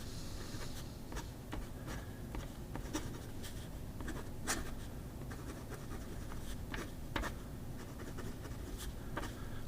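A fountain pen with a Majohn number 8 nib scratches across paper in quiet, close strokes, with light rhythmic scritches and taps and no talking.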